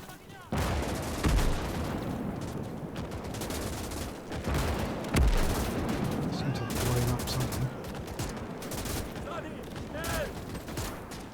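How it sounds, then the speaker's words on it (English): Machine gun bursts and booming artillery fire in the World War II strategy game Gates of Hell, dense rattling volleys layered with heavy distant blasts across a sustained battle din. "Machine gun."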